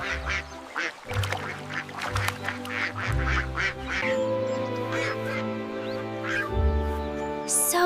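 A cartoon duck quacks in a rapid string of short, loud calls, layered over a steady bright musical backing, with a sharper squawk near the end.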